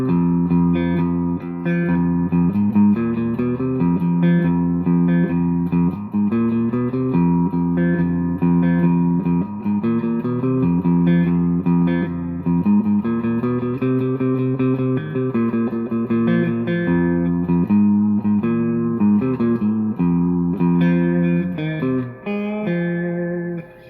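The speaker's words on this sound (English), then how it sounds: "Here's a reverb. So it's 3/4 of the way up." An electric guitar plays sustained notes and chords through a Supro Blues King 12 amp with reverb three-quarters up, a wash of reverb trailing each note, steady and loud throughout.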